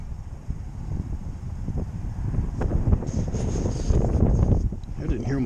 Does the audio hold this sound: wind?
yes